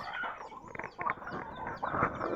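Several chickens cluck and squawk nearby in short irregular bursts, with a few higher calls mixed in.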